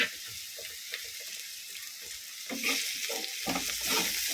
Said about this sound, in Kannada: ಬಟಾಟ ಕೂಡ ಒಂದೇನು ಫ್ರೈ ಮಾಡ್ತೀನಿ